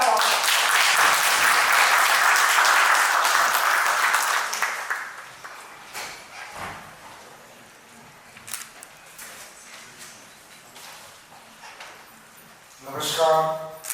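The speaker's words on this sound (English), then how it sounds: "Please join me in welcoming him with a big round of applause." An audience in a college hall applauds to welcome a guest lecturer, a loud, full wave of clapping for about four seconds. It then fades to quiet room noise with footsteps and knocks, and a voice speaks briefly at the end.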